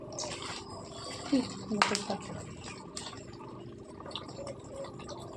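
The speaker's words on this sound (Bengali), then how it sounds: "এই দেখো জল ভরছি" Water pours into a container with a continuous rushing hiss, punctuated by a few splashes and clinks, while faint voices murmur nearby.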